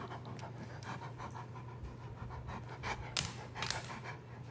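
A dog pants heavily and steadily in rapid rhythmic breaths, close by, with no talking over it.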